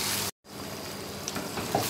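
Pointed gourd fries in a pan with a steady, close sizzle, broken by a brief moment of silence, then resuming with light stirring scrapes.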